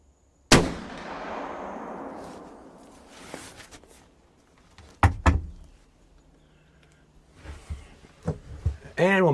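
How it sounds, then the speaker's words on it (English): One loud muzzleloader rifle shot fires Hornady Boredrivers 290 grain bullets outdoors, a sharp crack that booms and decays into a long rolling echo, followed by faint movement, clicks and a voice afterward. "Shot number 3, Hornady Boredrivers, 290 grain."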